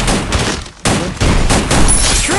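Loud bursts of rapid gunfire fill a competitive e-sports shooter match, with a brief lull before the shooting resumes in dense volleys.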